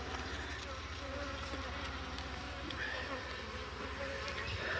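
Honeybees from a swarmed beehive buzz continuously around an opened hive, a faint, steady droning hum without pause.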